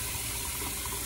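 Cold water runs steadily from a bathroom tap into a sink, a close, even broadband rush that holds without a break.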